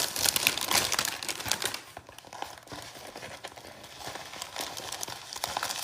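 Unboxing an AB Diamond Mystery diamond painting canvas, a 30 by 30 with white borders: crisp crinkling and rustling of plastic packaging with scattered ticks and taps, close and fairly busy, easing off midway before picking up again.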